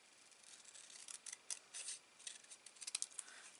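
Scissors slicing through card down the middle, a quiet run of crisp snips and rasping cuts coming in uneven bursts, close by and alone.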